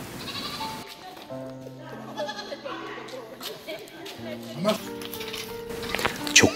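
Goats being handed out to families bleat several times, clear and fairly close, with short calls rising over a noisy outdoor crowd and people talking.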